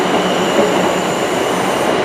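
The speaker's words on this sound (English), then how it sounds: "first train in this video is a passing service from Portsmouth Harbour to London, Weymouth to London Waterloo" Passing electric train on the line from Weymouth to London Waterloo at Clapham Junction, a loud steady roar of wheels and carriages rushing by close, with a thin high whine above it.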